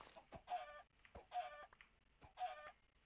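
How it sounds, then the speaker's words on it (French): Chickens in a modded Minecraft world cluck in three short, evenly spaced bursts, each a quick pair of squawky notes, faint and alone. "Ah, killing the chicken."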